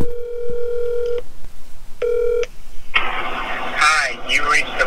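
Telephone call being placed: a sustained ringback tone sounds, pauses, then repeats more briefly, followed by muffled phone-line noise and a voice answering faintly through the earpiece, all fairly close.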